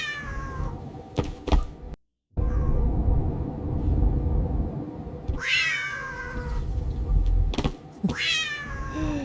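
A cat in a space-themed AI-generated video gives several clear, close meows, some rising and some falling, over a low rumbling bed with a few soft knocks and a brief dropout.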